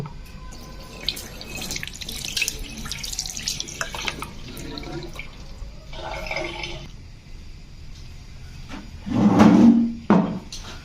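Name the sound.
washing a vegetable peeler under running tap water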